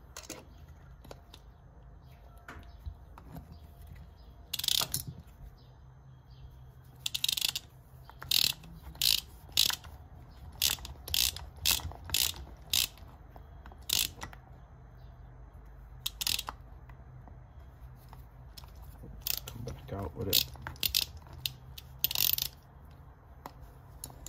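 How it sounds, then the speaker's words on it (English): A ratcheting tap handle clicks in short bursts of sharp metallic ratcheting, repeated irregularly and close up while working on a throttle body for an MK1 VW Cabriolet, with no talk. "And then I have this ratcheting tap handle."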